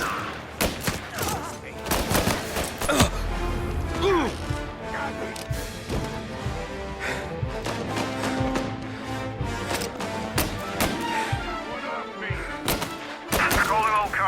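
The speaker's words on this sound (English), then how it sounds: "Reports of gunshots rolling in." Gunfire in the video game Mafia Definitive Edition crackles in dense, rapid volleys with crashes and impacts, loud and close, with voices mixed in throughout.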